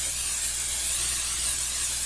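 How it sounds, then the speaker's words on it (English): A steady, close hiss of cooking spray coats a muffin pan in one continuous burst lasting about two seconds. "Spray them really well, especially on the top"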